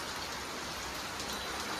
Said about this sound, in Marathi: पाऊस थोडा थोडाच आहे पण कंटिन्युअसली पडतो आहे